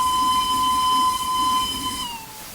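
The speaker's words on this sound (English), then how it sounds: "Blow that whistle." Steam locomotive whistle blown in the game Steam and Steel: one loud, sustained, steady tone with a breathy hiss that holds for about two seconds, then dips slightly in pitch as it cuts off.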